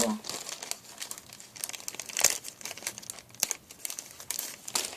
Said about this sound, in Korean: 그리고 이건 지퍼백 하나가 왔어요. 큰 거, 큰 사이즈로.